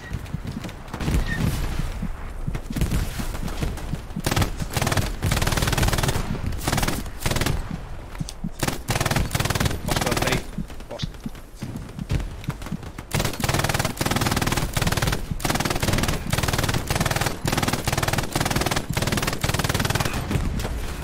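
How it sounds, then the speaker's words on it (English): Machine gun fire in a Hell Let Loose match, long bursts of loud rapid automatic shots with short pauses between them, overlaid on dense battlefield noise. "With the MG doing enough to defend here."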